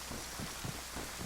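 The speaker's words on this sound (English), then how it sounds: "it's got to be raining badly." Rain in the video game DayZ on PS4: a dense, even hiss of falling rain fills the short moment, steady and fairly loud, with no talking.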